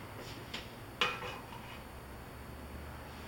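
A metal saute pan knocks and clinks once or twice as it is set down on a kitchen stove, a short bright clank followed by quiet room hiss.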